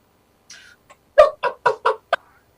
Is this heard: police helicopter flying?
no